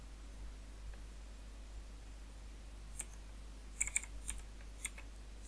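Typing on a computer keyboard, quiet and near, in short scattered bursts of key clicks over a low steady hum in a quiet room.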